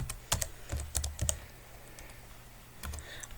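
Several quick clicks of keys being typed on a computer keyboard, clustered in two short bursts separated by a pause, close and fairly quiet with no talk.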